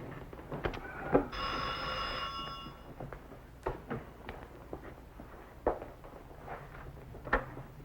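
An old-style telephone bell rings once in a long burst in a quiet indoor room, followed by faint footsteps and small knocks.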